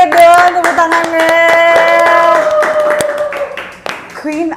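A studio group claps in quick, close bursts to welcome a guest singer, and the claps ring under loud, excited voices and sung notes.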